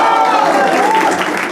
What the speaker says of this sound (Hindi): कौन एक बार भड़वे के लिए ताली बजा दो